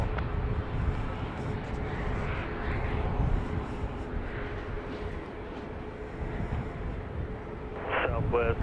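A Southwest Boeing 737 Max 8 airliner at Dallas Love Field, heard as a steady broad engine roar with wind buffeting the microphone, while a voice talks over it near the end.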